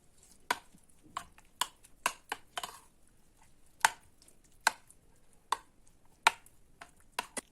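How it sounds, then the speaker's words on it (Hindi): Chopped tomato and green chilies are mixed for a yogurt chana chaat, giving quiet, irregular clinks and taps of utensil against bowl, spaced sharp knocks with soft rustling between them. "अब इन सबको अच्छी तरह मिक्स करेंगे।"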